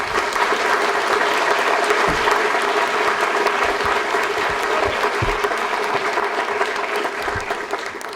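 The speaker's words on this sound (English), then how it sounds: "Please give these individuals and institutions a big round of applause" An audience at a science prize ceremony applauds steadily and warmly, a dense, continuous clapping that tapers slightly at the end.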